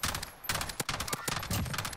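Rapid bursts of gunfire from a battle royale shooter game, with several loud sharp shots and short volleys spread across the two seconds and a faint voice briefly underneath.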